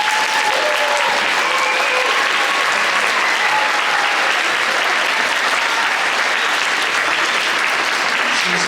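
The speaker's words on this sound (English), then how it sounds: "would you please give a big round of applause to say thank you to Miss Jolly" An audience at a school band concert claps steadily and loudly throughout, a dense continuous wash of applause that never lets up.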